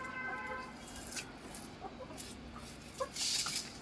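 A rooster on a farm clucks in short, scattered bursts amid other fowl, fairly faint, with brief scuffling noises near the end.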